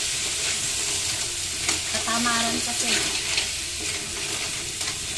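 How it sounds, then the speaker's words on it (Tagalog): Snails being sautéed in a small frying pan, giving a steady frying sizzle with stirring scrapes throughout, while a person talks briefly over it. "Gigisa ko na si kuhol."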